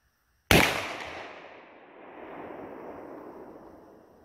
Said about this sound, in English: And now I'm gonna shoot a slug for the first time. I'm gonna go for the plywood.